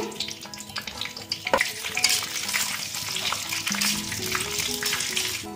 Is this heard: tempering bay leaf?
yes